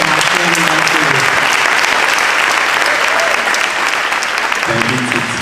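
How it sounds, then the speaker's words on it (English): A crowd at a school campus ribbon-cutting ceremony gives sustained applause for a man named TJ, steady clapping throughout with voices faintly audible beneath it near the start and end. "Keep giving him a round of applause, please"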